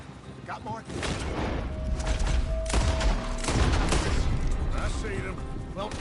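Gunfire in the Red Dead Redemption 2 video game during a sheriff shootout in an alley: several loud, sharp shots and booming bursts spaced irregularly, with voices talking over the fighting.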